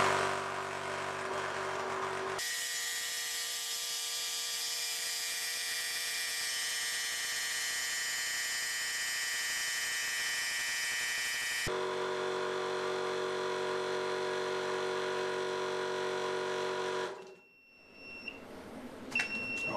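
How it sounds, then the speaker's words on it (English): A high-pressure air pump runs steadily with a loud, continuous mechanical whine and drone, shifting pitch twice as it works through its second stage, then cutting off abruptly near the end, leaving a few faint beeps. "I can now hear the pump working, pumping air through the second stage of the pump"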